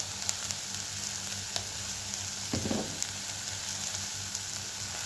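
Vegetables for a bread roll filling sauté in a pan with a soft, continuous sizzle, quiet and close, marked by a brief stir partway through.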